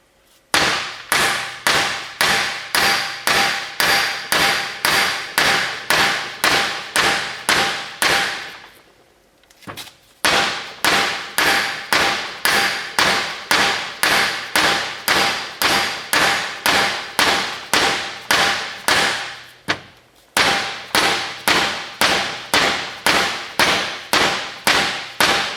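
Repeated hammer blows drive Polaris Ranger 6x6 mid-axle suspension bushings clamped in a vise, a fast steady run of loud close metallic strikes broken by two short pauses.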